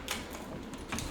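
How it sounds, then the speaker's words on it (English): A knife chops bacon on a cutting board, giving a couple of quick, crisp taps about a second apart against a faint, steady kitchen background. "I'm just gonna give this bacon a little chop. Probably shouldn't do it on this cutting board"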